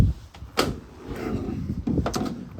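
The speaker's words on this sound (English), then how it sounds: "Now, opening up the rear of the van." Rear doors of a Ford Transit Custom short-wheelbase high-roof van are opened, giving a few close clunks and latch clicks over faint outdoor noise.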